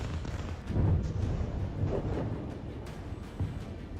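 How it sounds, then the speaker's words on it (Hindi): Heavy bombs from Israeli airstrikes on Hezbollah sites in Lebanon near Beirut airport, a series of deep rumbling booms and rolling blasts, with several swells of low thunder over the span. "लेबनान में हिजबुल्लाह के ठिकानों पर इजराइल सैकड़ों टन बम बरसा रहा है"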